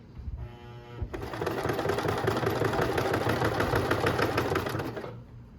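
A sewing machine stitches a handbag, running in one steady, close, rapid whirring burst for about four seconds after a brief softer start, then stopping.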